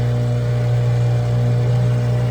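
A steady engine runs at a constant idle, a loud, even mechanical drone with a low hum throughout.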